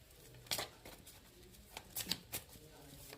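Tarot-style cards shuffle and get handled during a card reading, with quick papery riffles and soft slaps in uneven bursts close by. The sounds come through quietly, with faint voice in the background.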